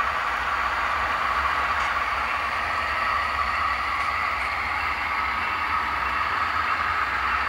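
A steady, loud rumble and hiss of a passing train crossing over a diamond on an HO scale BNSF layout, continuous and unbroken, with no talking.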